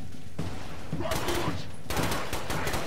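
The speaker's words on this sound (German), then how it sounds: "ich nehme vielleicht mal meine Maschinenpistole" Submachine gun fire in the video game The Bureau: XCOM Declassified comes as two dense bursts of rapid shots, the second longer and fuller, under a low background rumble.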